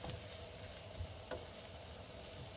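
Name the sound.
stirring vegetables in melted butter in a pan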